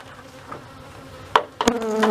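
A honey bee colony buzzing with a steady low drone, interrupted by a few sharp knocks and clatters that grow louder toward the end.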